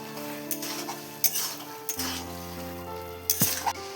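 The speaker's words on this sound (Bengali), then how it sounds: "দশ মিনিট কষে নেব আলুগুলো দিয়ে নিচ্ছি ভেজে রাখা" Fried potatoes and peas sautéed in masala for Bengali ghugni, an even sizzle with a low hum underneath, broken by a few sharp clinks and scrapes of a spatula against the pan.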